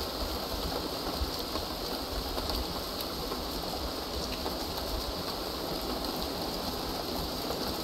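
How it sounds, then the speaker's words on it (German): Steady rain in the Hausmeister game at night, an even, unbroken hiss of falling water that holds at the same level throughout with no voices. "Und natürlich regnet das."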